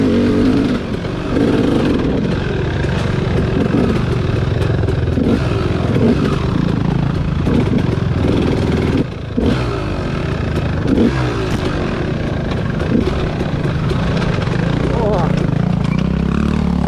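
KTM dirt bike engine running loud and close, a steady throbbing roar with small revving surges, out on a wet dirt trail.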